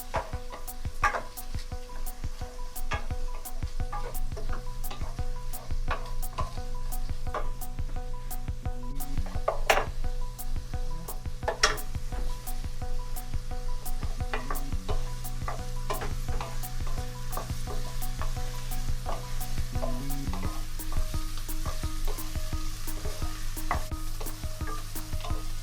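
Kashmiri dried red chillies sizzle and crackle in hot oil in a pan, a constant close frying hiss broken by regular clinks and scrapes of stirring, with no talking.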